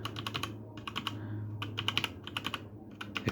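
Clicky bursts of keystrokes on a Zifriend KA646 mechanical keyboard fitted with red linear switches, heard up close in quick clusters separated by short pauses, with a faint steady hum beneath.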